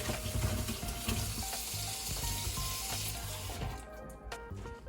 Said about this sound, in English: Rinse the pepper.